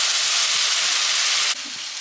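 Tomatoes and chili sizzling in a hot tadka, a loud, dense, continuous hiss close by that drops abruptly in level partway through, with no voices.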